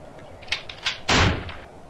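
A single sharp pistol shot bursts out loudly near the end, preceded by a few quieter clicks and knocks.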